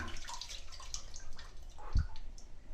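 Water running and dripping while a fish is washed, close splashes and drips with one sharp thump near the end, fairly quiet, with no talk.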